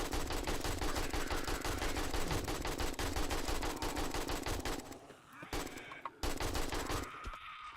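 Rapid sustained automatic gunfire mowing down feral zombies in 7 Days to Die, a dense rattling stream of shots with brief pauses near the end, loud and close.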